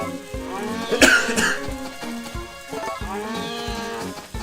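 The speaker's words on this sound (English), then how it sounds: "sorry for the coughing" A person coughs a couple of times up close, harsh throaty bursts over a quiet background.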